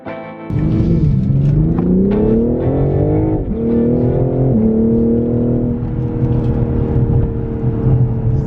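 A 2021 BMW M4 Competition roars close and loud, its engine note climbing through repeated revs and acceleration pulls, then holding a sustained, throaty drone with no voices over it.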